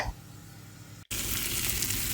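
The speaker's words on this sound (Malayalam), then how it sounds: "മീനും കൂടി പൊരിക്കട്ടെ" Fish hits hot oil in a pan after a brief hush, and a loud, bright sizzle at once fills the air. The frying hiss then keeps on, close and steady.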